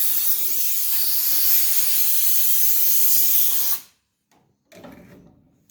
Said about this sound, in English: Just remember to use some air to cool it down.